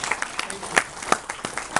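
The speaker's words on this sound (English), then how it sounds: "And round of applause." Audience applause at a book launch: scattered, uneven claps of moderate loudness, with voices talking faintly underneath.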